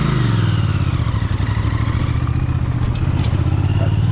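A Royal Enfield Bear 650 twin-cylinder motorcycle engine drones steadily while riding on a hot summer day, with loud, continuous low-pitched throbbing and wind noise close to the rider.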